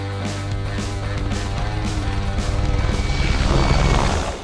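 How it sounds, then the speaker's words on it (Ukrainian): An army aviation helicopter flies low below treetop height, its rotor thudding loud and close with a heavy engine drone that builds steadily as it passes. "а гелікоптер іде нижче за рівень цих дерев"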